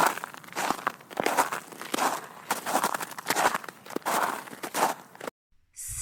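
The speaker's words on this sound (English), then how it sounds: "walking in the snow," Footsteps crunch through snow in an uneven walking rhythm, each step a close, crisp crackle with brief pauses, ending in a short silence.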